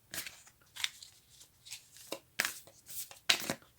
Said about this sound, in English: Usually they shuffle very well.